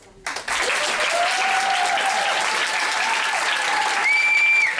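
A concert hall audience applauds in a vote for flautist Marie-Chantal, a loud, dense, continuous wave of clapping that rises abruptly and holds steady, with a few sustained whistles or cheers over it.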